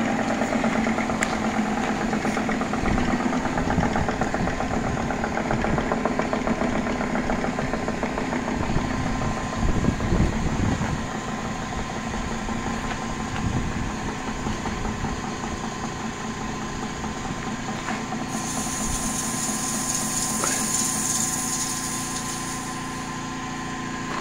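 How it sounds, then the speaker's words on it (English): A compressor runs steadily and continuously close by, a loud, even mechanical drone with engine-like rumble that holds throughout. "That's the compressor running."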